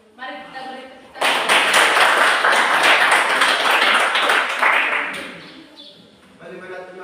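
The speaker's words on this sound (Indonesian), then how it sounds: "mari kita beri tepuk tangan" An audience breaks into applause, a dense burst of clapping that holds for about four seconds and then fades, with a speaker's voice before and after it.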